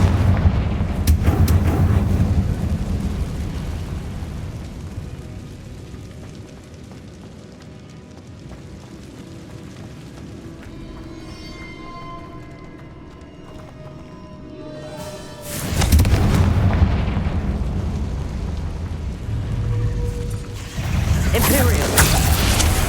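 Confringo fire spells from Hogwarts Legacy burst in loud explosive blasts, with heavy booming bursts near the start, around 16 seconds and again near 21 seconds, separated by quieter stretches of rumbling game ambience.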